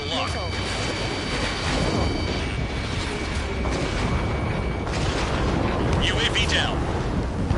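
Aerial combat in Ace Combat 7, where a UAV is shot down: a heavy, rumbling explosion and roaring jet noise sustained throughout, loud and close, with radio voice chatter over the top.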